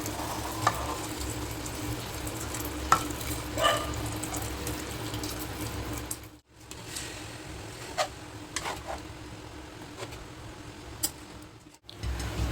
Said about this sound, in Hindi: तो मैं यहाँ पे गर्म पानी डाल रही हूँ।